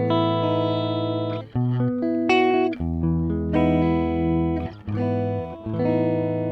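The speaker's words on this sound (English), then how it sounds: "so you can hear the direct tone" An electric guitar plugged in direct, with no reverb, plays clean sustained notes and chords in several phrases, dry and upfront with distinct note attacks and brief gaps between strums.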